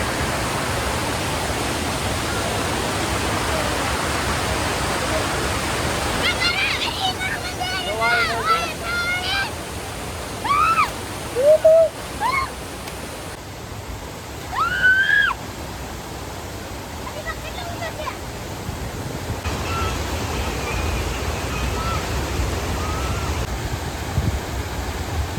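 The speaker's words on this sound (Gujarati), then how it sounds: "નાના નાના ધોધ પડે છે સરસ મજાના" Small waterfalls pouring into a village pond in rural Gujarat make a steady, broad rushing wash from start to end, with a few brief, high whistling chirps rising over it midway.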